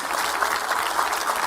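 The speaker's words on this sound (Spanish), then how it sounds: "Nada más una persona aplaudió." Applause in a church congregation during a sermon, a steady, fairly dense patter of clapping rather than a single pair of hands.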